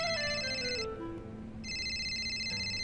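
A phone ringtone plays a bright electronic melody up close, briefly dipping before the tone resumes.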